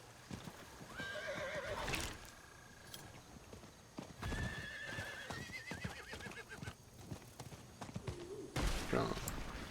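Horse gallops and whinnies in the Diablo IV video game: steady close hoofbeats run throughout, with two clear neighs, one early and one near the end, over game music and ambience.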